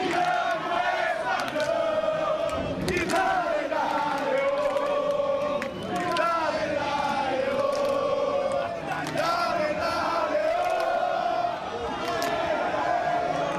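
Football supporters of Nacional singing and chanting in the stands at a Libertadores match, a dense, sustained crowd roar with rhythmic, tonal chant lines running steadily throughout.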